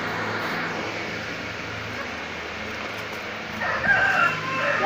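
Chickens, including white hens, cluck and a rooster crows on a farm over a steady outdoor background hum, growing a little louder toward the end.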